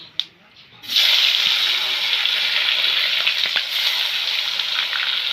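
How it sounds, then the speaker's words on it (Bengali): Chopped tomatoes hit hot oil already used for frying potatoes, with cumin seeds in the pan: after a brief quiet moment, a loud sudden sizzle bursts up and keeps crackling steadily to the end. "এবার কেটে রাখা টমেটো দিয়ে দিচ্ছি"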